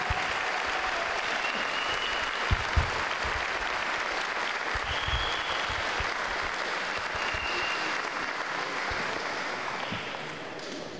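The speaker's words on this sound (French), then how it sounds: "Vous pouvez tous vous applaudir vraiment très très fort" Audience applause at a charity cheque presentation for a cancer league, a continuous crowd of clapping hands held at an even, moderate level for the full length, with a few sharper claps standing out.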